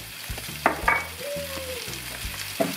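Chopped onion drops into a hot frying pan for a home-style liver and onion dish, giving a steady close sizzle with a few louder bursts of spattering and stirring scrapes.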